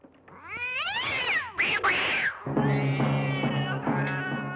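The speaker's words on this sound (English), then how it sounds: "So then a cat mauls this guy" A cat yowls and caterwauls loudly in a string of drawn-out, wavering cries with sharp rising and falling pitch, an aggressive outburst during a mauling scene in the 1971 horror film The Corpse Grinders, close and alone without speech.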